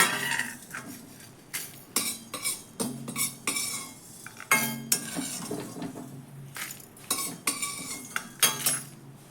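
Fried whole spices, including dried red chillies, are scooped from a pan onto a plate, giving a series of sharp metal scrapes and clinks of a spoon against cookware, close by with short pauses between strokes.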